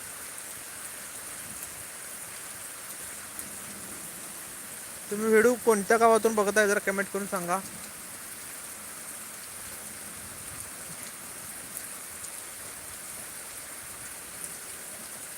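Heavy rain pours down steadily over farm country on a windless day, a dense, even hiss throughout, with someone speaking briefly partway through.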